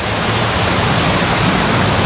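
Heavy rain and floodwater on a Bangkok street make a loud, continuous broadband rush, like a torrent pouring without pause, close and unbroken throughout with no voices.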